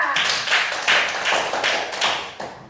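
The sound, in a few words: classroom clapping for a student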